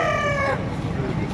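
At a busy chicken market in Padre Garcia, Batangas, a rooster lets out a short, strained crow that cuts off halfway, over a background murmur of crowd noise.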